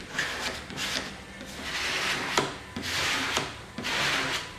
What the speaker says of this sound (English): I'm taking the squeegee with firm pressure and working the installation fluid to the outside of the graphic panel.